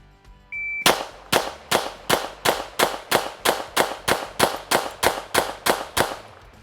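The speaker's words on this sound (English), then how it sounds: "I'm going to shoot 16 rounds essentially." Sixteen rapid pistol shots ring out from an expensive Alien pistol, each a sharp crack followed by a metallic clang of steel targets, evenly spaced at about a third of a second, loud and close after a brief timer beep.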